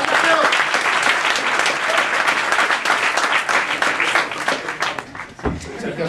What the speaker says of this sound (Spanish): Pues Sergio, por aclamación, hay un aplauso